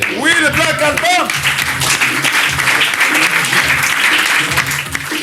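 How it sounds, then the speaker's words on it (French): Loud, sustained applause from a studio audience on a French television talk show, continuous clapping over several seconds with voices and cheering mixed in. "On l'applaudit très fort."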